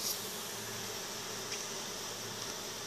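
Honey bees buzzing steadily around an open hive after being smoked during queen grafting, a dense continuous hum close by with no voices.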